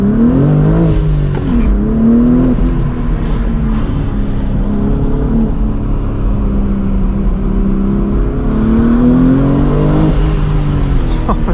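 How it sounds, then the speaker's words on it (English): A BMW M4 G82 with a manual gearbox revs loudly and steadily from inside the cabin, the engine note rising and dipping through quick rev-matched downshifts, with occasional speech over the engine. "you get those nice quick rev matches on the downshift"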